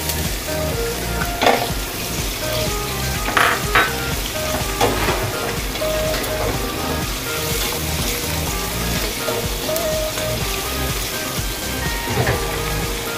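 Onion and garlic sauté in a hot pan for chicken gizzard bopis, a steady close sizzle of frying running throughout with a few louder crackles and stirring bursts, no talking.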